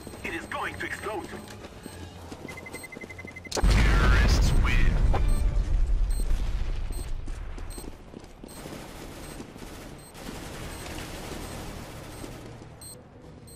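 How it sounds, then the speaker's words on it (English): A loud, sudden blast from a planted bomb detonating in Counter-Strike: GO erupts and rumbles for several seconds, fading slowly as game sounds and speaking voices continue around it. "Get ready! It is going to explode!"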